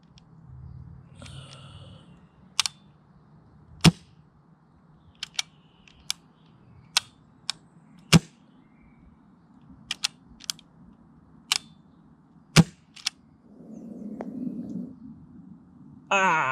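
Airsoft BB shots from a Novritsch SSX303 bolt-action sniper rifle fired outdoors at long range, a few sharp, separate cracks spread out over about sixteen seconds, with softer clicks and handling noise between them.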